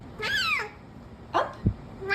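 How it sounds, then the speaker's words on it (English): A cat gives odd, warbling meows: a long wavering cry, a shorter chirp a second later, then another rising call, with a brief low thump between them. "I have never heard a cat sound like this before."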